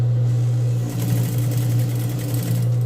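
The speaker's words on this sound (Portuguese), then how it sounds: "Aí bota a máquina no pesponto." Sewing machine running a topstitch along a zipper placket, a steady close whirring drone with a low hum, the needle rhythm picking up after a brief pause near the start.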